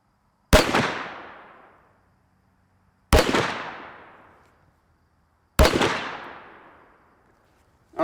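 Three loud .50 caliber handgun shots boom close by, evenly spaced a few seconds apart, each sharp crack followed by a long rolling decay; no talk.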